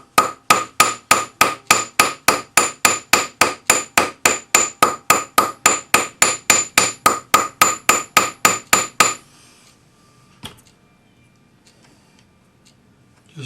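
A small jeweler's cross peen hammer strikes a folded metal cuff, likely on an anvil, in a brisk, even run of about thirty sharp, ringing taps, close and loud, then stops, leaving near silence with one faint knock.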